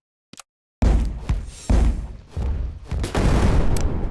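Ship weapons firing on an enemy vessel in the space game Rogue Station, heard as several heavy booming impacts and thuds in uneven bursts after a brief silent start, loud and close with no talking.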